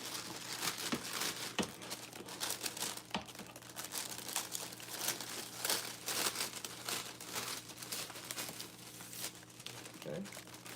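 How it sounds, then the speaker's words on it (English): A plastic gift bag is cut and crinkled, with continuous rustling and crackling up close and irregular sharper crunches scattered throughout. "I don't think we need that much of the bag, but we actually can cut off some of that."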